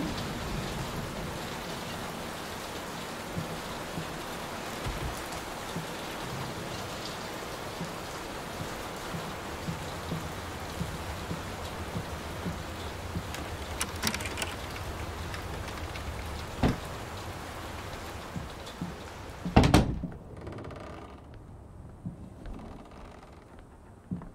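Steady rain pattering throughout in the horror game Layers of Fear, a continuous moderate wash with a few small knocks, ending in a brief sharp clatter before fading to near silence.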